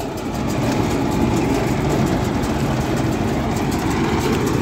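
A tractor-driven soil loader machine runs with a heavy, continuous engine rumble, loud and close, steady throughout with a low throbbing texture and no speech.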